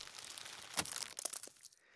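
Dry crinkling and crackling of material, a sharp burst near the middle followed by scattered smaller crunches, close and fairly quiet.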